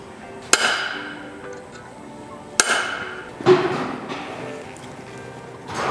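Staking the nut on a Toyota FJ80 front differential: two sharp hammer strikes about two seconds apart, then a duller knock, close and with no voices.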